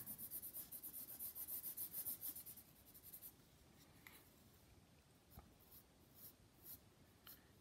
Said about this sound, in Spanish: la sombra se puede hacer con un lápiz graduado en B o con el mismo lápiz, pero con una presión mayor